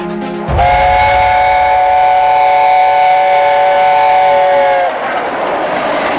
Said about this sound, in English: Behind me is the London North Eastern Railway A4 Pacific 4468 Mallard